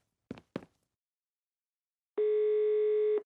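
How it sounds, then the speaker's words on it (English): A telephone dial tone in a detective video game sounds as a steady, clean electronic hum lasting about a second, preceded by two short clicks of handling a phone. "All I need is one more phone call to the lab."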